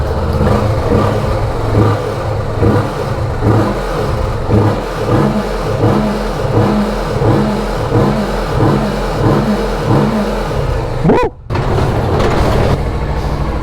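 Kawasaki Vulcan S motorcycle engine revving while riding, a loud close-up growl that rises and falls in repeated throttle pulses over steady road and wind noise, with one brief dip near the end.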